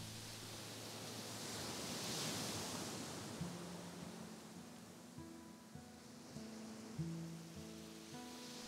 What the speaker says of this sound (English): You know the waves never stop.